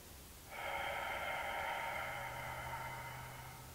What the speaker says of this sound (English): breathe in through your nose. Hold. Exhale through your mouth.